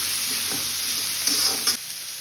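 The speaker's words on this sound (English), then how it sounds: "Then fry well." Chopped carrot, beans, capsicum and green chilli sizzle steadily in a pan for fried rice, with a broad hiss and a few soft stirring scrapes near the end.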